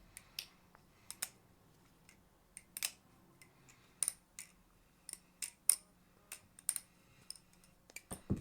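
An Atropos Spy knife replica from Team Fortress 2 being flipped with freshly applied lubricant, producing a string of sharp, crisp metallic clicks and snaps at irregular intervals, close-up and isolated against a quiet room.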